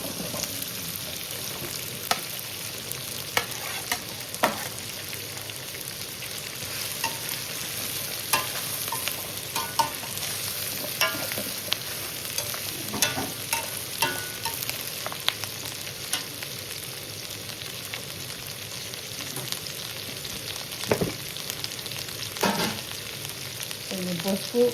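Flat beans (chikkudukaya) fry in a pan for curry with a continuous close sizzle. Scrapes and clicks of stirring recur throughout, and no voices are heard.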